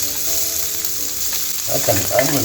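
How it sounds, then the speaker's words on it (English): Sliced red onions sweat down in a pan with a steady, close sizzle and frying hiss, and the crackle swells as they are stirred toward the end, with no voices. "I'm going to sweat down my red onions."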